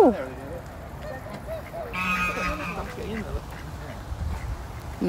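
Duck quacks at a farm museum family day, several calls scattered among background chatter and children's voices, with a person nearby also talking.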